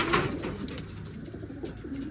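Pigeons coo softly and close by, their low murmuring calls repeating in gentle waves.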